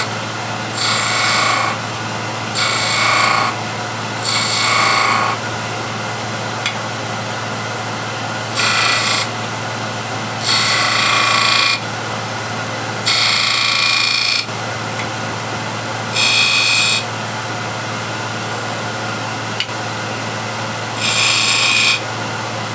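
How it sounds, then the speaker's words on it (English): A small skew chisel shapes a bead on a spinning woodturning lathe, making repeated rasping cuts in short bursts of a second or two over the lathe's steady low hum. "now I can shape this bead. I'll use this smaller skew."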